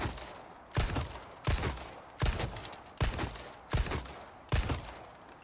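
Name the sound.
pistol firing in Resident Evil 4 Remake video game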